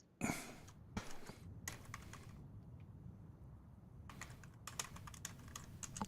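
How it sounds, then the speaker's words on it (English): Fingers type on a computer keyboard during a tabletop Dungeons & Dragons session, with quick bursts of clicking keystrokes, a brief quieter lull in the middle, then more rapid tapping, fairly close and without talk. "I'm typing in response."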